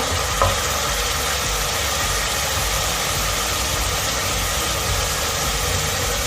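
Onions added to garlic in a hot pan are stirred and fry with a dense, constant sizzle that hardly varies, close by and without speech.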